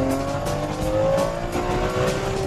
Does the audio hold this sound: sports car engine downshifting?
yes